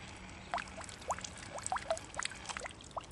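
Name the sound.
toy submarine pushing water out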